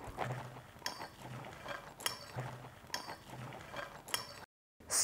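Sprouts being mixed with salt and lemon juice in a bowl, giving a series of light clinks and scraping stirs in an irregular rhythm, fairly quiet and close, with a brief silent gap near the end.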